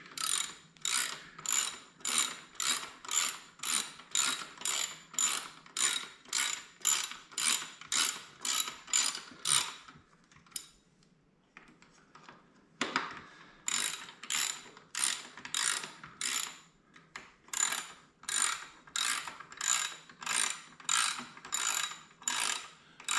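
An Allen key ratchets steadily as screws are tightened on a Givi motorcycle top box support bracket, giving rapid, loud, close clicking in regular bursts with a brief pause midway, no voices.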